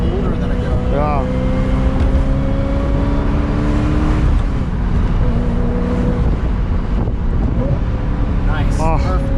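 A 25-year-old Ferrari engine revving toward 9000 RPM, loud and close, with rising and falling pitch sweeps over a constant roar and voices talking over it.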